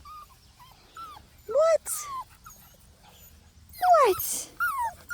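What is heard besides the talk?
seven-week-old puppies whimpering and playing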